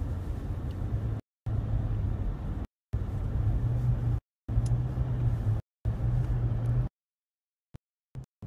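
Steady road rumble from inside a car driving back from a country dacha, loud and continuous, broken by several brief dropouts and ending in near silence with a couple of faint clicks.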